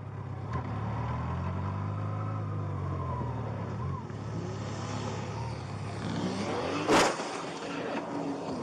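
A stolen car with blown rear tyres does a three-point turn on a street, its engine rumbling low and shifting in pitch as it rises and falls, with a sharp burst of noise near the end.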